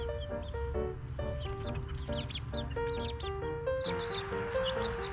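Hens and a rooster in a chicken coop, with repeated short clucks and murmuring calls overlapping in a busy, close, fairly quiet flock chatter.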